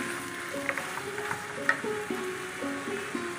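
A whole onion and diced onion fry and get stirred in a pan, giving a soft, steady sizzle with light scraping taps, while a gentle melody plays faintly underneath.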